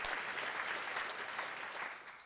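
Congregation at a church seminar applauding together, a dense, even wash of clapping that holds steady and eases slightly toward the end.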